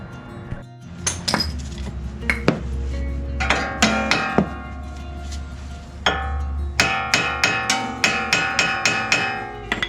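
Sharp metallic taps from a hammer seating a bushing on a Honda Odyssey minivan, irregular at first, then settling into a steady run of evenly spaced blows, close and loud over a low hum.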